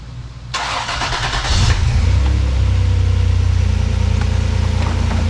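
A Toyota 4Runner fires up after major engine repair with its exhaust reconnected: a cranking burst, then the engine catches with a brief rev and settles into a steady, fairly loud idle.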